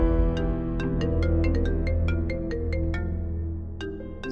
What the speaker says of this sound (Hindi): फोन आ रहा है, उठाओ।